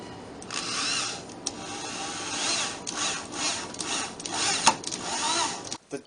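A power drill drives 2.5-inch pocket hole screws into a wooden home office desk, giving several short whirring bursts that rise in pitch, close up and loud, with brief pauses between.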